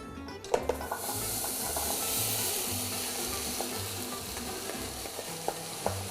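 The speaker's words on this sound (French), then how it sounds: "Je vais partir sur 10 minutes dans un premier temps de cuisson, un feu moyen, pour faire réduire un tout petit peu cet ensemble" A mixture of pineapple, tomato and zucchini cooks in a pan over medium heat, giving a steady hissing sizzle with soft bubbling pops and occasional stirring clicks, close up and without talk.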